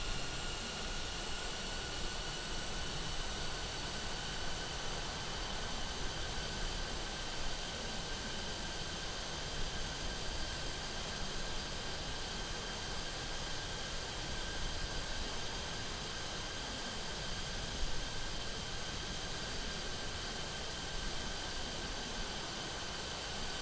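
An Airbus A330 jet engine in Microsoft Flight Simulator, a steady, even roar with a faint high whine layered over broadband rushing noise, continuous throughout.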